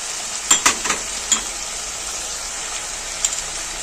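Tomato frying with spices in a pan for egg korma, a soft steady sizzle broken by several close scraping stirs of a spatula in short bursts, with no talking.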